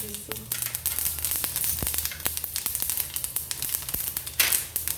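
Mustard seeds crackling and sizzling in hot oil for batata vada, a bright steady fizz with scattered sharp pops, fairly close and unbroken.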